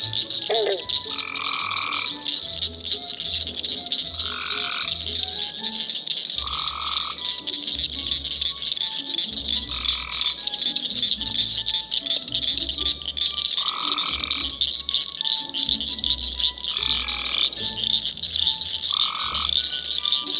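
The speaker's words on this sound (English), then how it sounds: "That night at the pond, we were serenaded by Blanchard's cricket frogs, Cope's great tree frogs, and bronze frogs." Frogs call at night from a roadside pond in Arkansas: Blanchard's cricket frogs, Cope's gray tree frogs and bronze frogs, with rattling clicks and repeated croaks at regular intervals over a constant shrill insect-like chorus, no voices.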